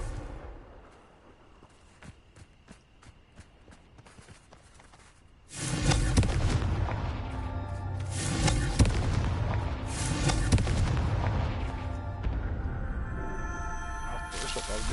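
Confringo fire spell blasts in Hogwarts Legacy, a sudden loud burst followed by a run of booming, crackling explosions that keep rolling for several seconds.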